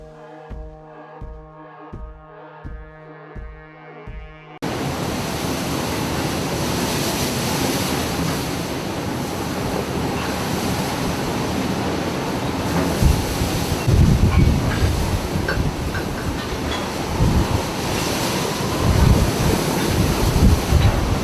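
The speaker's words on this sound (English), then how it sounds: "A small fishing boat passes powerful waves near the rocks." Powerful storm-driven ocean waves crash near rocks, a loud, continuous roar that swells with heavier surges, after a few seconds of tonal music at the start.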